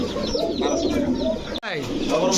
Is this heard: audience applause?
no